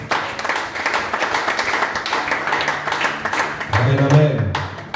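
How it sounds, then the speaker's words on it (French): A church congregation applauds during a service, a sustained wash of many clapping hands with voices rising under it toward the end. "Est-ce qu'on peut applaudir les frères et sœurs?"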